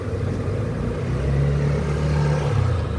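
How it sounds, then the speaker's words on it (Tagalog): Samdon inverter's cooling fan starting up under heavy load in a solar setup, a steady low whirring hum with a faint rising tone partway through, close and continuous with no speech. "umandar yung kanyang fan kasi mabigat na ito"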